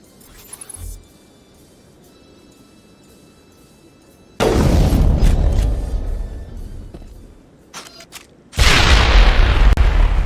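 Two heavy grenade blasts in the Mass Effect video game, each a sudden loud boom with a rumbling, crackling tail, separated by a few seconds of quiet ambience.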